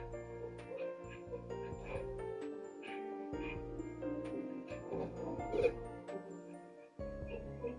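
A puppy gives a run of short yips and barks mixed with whimpers over a steady low hum, close and moderately loud, with some background clatter.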